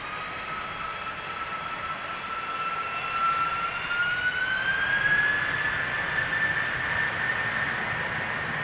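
A jet airliner takes off from runway 36L at Amsterdam Schiphol, its engines a steady roar with a rising whine that builds gradually and stays strong, heard from a moderate distance with no voices.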